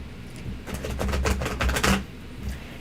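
Tarot cards being shuffled by hand, a close, loud burst of rapid riffling clicks lasting about a second and a half, followed by a few softer card taps, with no voices.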